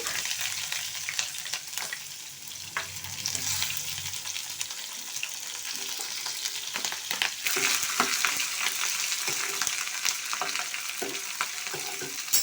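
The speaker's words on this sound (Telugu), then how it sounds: "ముందు పలవాకు అలాగే పలవా సరుకులు అన్నీ తెలుసు కదా వేసేసి ఫ్రై ఫ్రై చేస్తున్నా" Whole biryani spices and bay leaf frying in a hot pan, a continuous bright sizzle with occasional scraping stirs and small pops, close and steady throughout.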